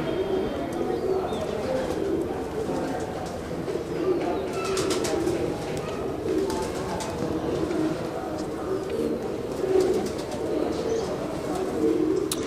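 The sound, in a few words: pigeons cooing on the rooftop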